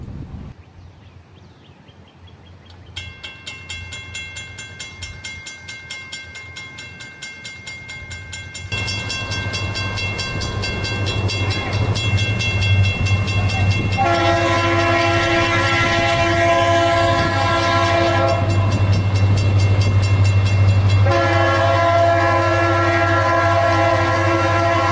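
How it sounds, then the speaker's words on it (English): A Norfolk Southern or CSX freight train in central North Carolina approaches through a tree tunnel heading south, its rumble rising from faint to loud as the horn blasts in long, sustained chords, with rail clatter building underneath. "we would see headlights and hear a distant horn off in the distance, marking the arrival of the train"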